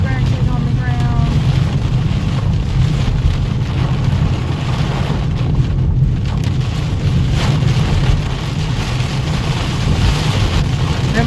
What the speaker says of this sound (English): This storm is massive